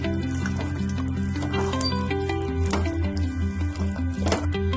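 Makhana, gond and almonds roast in a pan over a low flame, giving soft continuous sizzling and faint rustling under a steady background hum.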